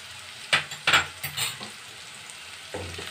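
Chopped capsicum and green chilli frying in a pan for paneer Manchurian, with a few scraping stirs and soft sizzle bursts near the start and end, separated by quiet gaps and no talk.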